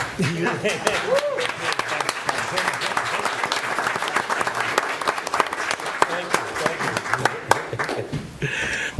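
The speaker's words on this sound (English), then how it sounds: "I'm going to stand and applaud." Clapping fills a village council meeting room, a steady round of applause from attendees with sharp individual claps, while voices talk over it throughout.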